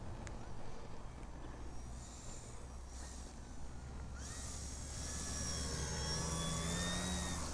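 A FliteTest Storch RC plane with an 1100 kV electric motor makes a low flaps-down pass, its motor whine rising and swelling as it approaches, heard over steady outdoor wind rumble.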